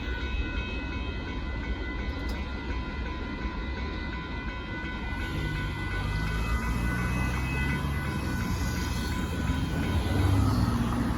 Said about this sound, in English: there goes that military train going by